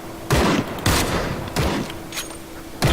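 Gunfire in a shotgun shooting session: four heavy blasts spaced roughly a second apart, loud and near, each with a short rough tail, over a steady background hum.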